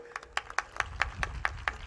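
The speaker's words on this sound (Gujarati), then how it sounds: "એક જોરદાર તાળી પાડો." An audience breaks into clapping at a motivational talk, a brief burst of several crisp, fairly regular handclaps heard close and fairly faint.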